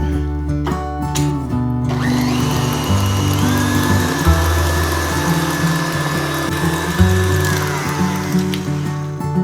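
An electric mixer runs on high, beating egg whites with extracts for mini pavlovas: a loud, steady motor whine that rises in pitch after a brief start, with a constant whirring drone.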